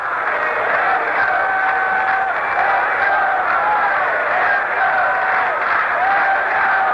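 A 1978 Angels–Yankees baseball stadium crowd applauds and cheers, a steady, distant wash of crowd noise that holds throughout the clip.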